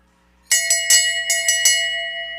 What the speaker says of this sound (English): There's your bell lap.